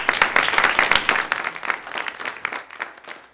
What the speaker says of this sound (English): So give a nice applause for him.